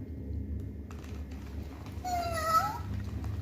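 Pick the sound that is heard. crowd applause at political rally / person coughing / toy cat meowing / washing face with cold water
toy cat meowing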